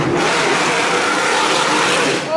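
Nissan GT-R sports car engine revving, a loud close roar sustained for a couple of seconds with a brief higher whine at the end.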